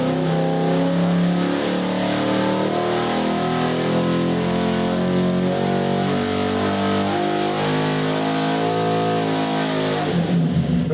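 A car engine on a dynamometer revs loud and close in one sustained run. Its pitch sweeps up and holds high, then drops off sharply near the end. No one speaks.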